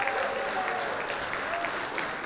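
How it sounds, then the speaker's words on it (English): Audience applause at a Nigerian comedy show, a short burst of dense clapping from the crowd, steady and fairly loud, with faint voices underneath. "please round of applause for Nigerian Baby Star"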